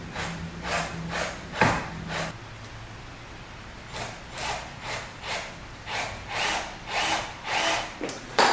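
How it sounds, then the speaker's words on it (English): Power drill boring holes into the front bumper of a BMW F80 M3 while fitting an M4 GTS lip, with a series of short whirring bursts in an uneven rhythm and a sharp knock near the start. "Now I get to drill some holes into my bumper."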